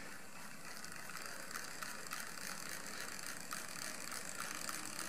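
A film camera rewinds a roll of film by hand crank, giving a quiet, close, continuous ratcheting whir with faint regular clicks throughout, no voices.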